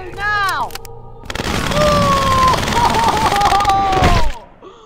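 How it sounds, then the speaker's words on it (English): Dense, loud gunfire bursts in a Mortal Kombat XL stage fatality, a sustained volley lasting a few seconds, mixed with game sound effects and shouted voices. "he got shot and his arm and leg got amputated by the bullets"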